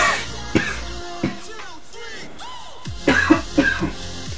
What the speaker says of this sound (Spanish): Madre mía, cómo me ha salido la tos ahí con potencia